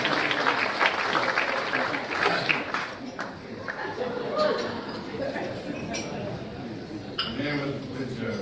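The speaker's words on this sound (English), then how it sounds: "We like a loud applause." Loud audience applause at an awards dinner, mixed with clinking dishes, cutlery and glassware. Voices talk over the steady crowd clapping throughout.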